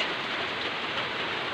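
Rain falls in a steady, even hiss of drops on surfaces, moderately loud and unbroken throughout, with no voices.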